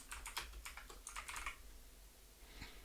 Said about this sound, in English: So you type in Patty